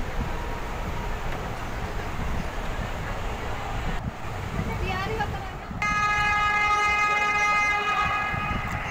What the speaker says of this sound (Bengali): ট্রেনে চড়ে বেশ ভালোই লাগছে।